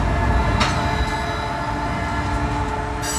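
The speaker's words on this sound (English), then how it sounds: "Hear that whistle blowing, going around the bend." The Canadian Pacific Holiday Train blows its whistle as it pulls away: a long, steady horn chord sounds over the continuous rumble and rattle of rolling rail cars, fairly loud and sustained throughout.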